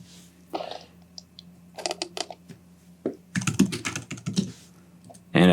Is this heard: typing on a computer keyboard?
yes